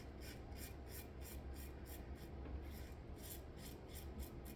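Razor shaving with the grain using Stirling Frankincense and Myrrh shave soap, a steady close rasping scrape repeated in quick regular strokes throughout.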